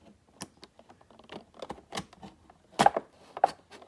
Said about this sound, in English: I used my box cutter to cut along the top here